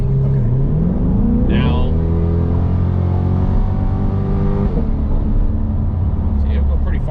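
A Chevrolet C8 Corvette 3LT in sport mode accelerates, its engine climbing steadily in pitch through the rev band before a shift, all heard from inside the cabin while people talk over it.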